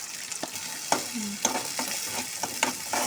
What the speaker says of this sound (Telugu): చిల్లీస్ వేసుకొని బాగా గోల్డెన్ బ్రౌన్ వచ్చే వరకు వేయించుకోవాలి